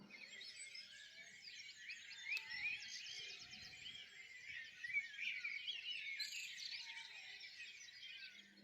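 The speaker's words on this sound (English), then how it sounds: "the birds in the valley were so noisy" Many birds chirp and sing at dawn in a valley in a continuous, busy chorus, fairly faint and distant-sounding, with no voices present.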